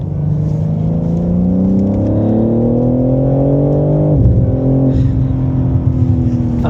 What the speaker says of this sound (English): That was only a touch of the throttle.